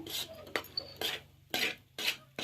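Sweet potato is stirred in ghee in a pan, a series of rhythmic scraping strokes of a spoon against the metal, close and distinct, roughly two per second, over a low hum.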